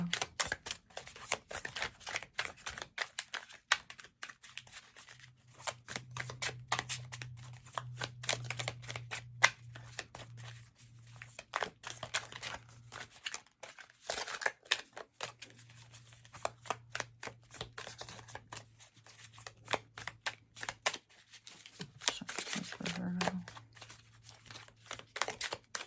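Tarot cards shuffled in quick, crisp riffles and soft flicks, close and fairly quiet, with a low steady hum under the papery clicks and no talking.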